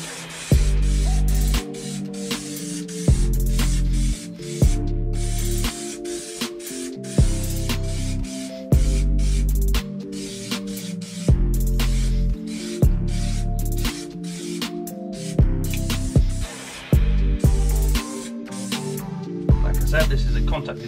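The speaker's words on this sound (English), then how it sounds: "This is a contact adhesive, so you need glue on both sides" Contact adhesive is sprayed from a can onto carpet lining a camper van in repeated loud hissing bursts, each lasting one to two seconds with short pauses between, and a voice talks over them.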